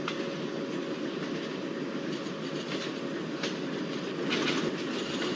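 A train runs in a train simulator video game on the GST route, with a steady rolling rumble and rail noise, faint wheel squeal, and a slight rise in loudness near the end.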